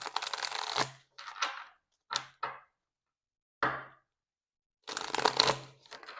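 Tarot cards are shuffled in several quick riffling bursts, close and crisp, with silent pauses between them.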